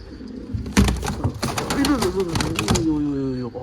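An injured pigeon with a fracture coos softly close by, mixed with brief fluttering and scuffling, and a person speaks over it.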